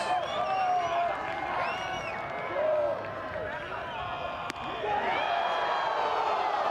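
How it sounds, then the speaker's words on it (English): Spectators at an Oklahoma State vs BYU college baseball game roar and cheer in a dense, steady swell of crowd noise, with voices mixed through it for the whole stretch. "Crowd makes some noise."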